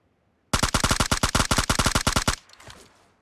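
Automatic gunfire in the video game PUBG Mobile Lite, a loud, close burst of about twenty evenly spaced rapid shots lasting nearly two seconds, then a short echoing tail.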